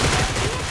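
Gunfire in the PUBG Mobile battle-royale game comes as a loud, dense burst of shots. It is very short and close, with no talking over it.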